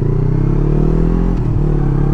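A 2020 Yamaha R3 motorcycle with an Akrapovic race exhaust drones loud and close with a deep throaty exhaust note, holding steady then dipping briefly before settling back.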